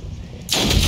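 A single loud, sudden gunshot blast in the turn-based game Othercide, bursting in after a quiet moment and ringing out to the end.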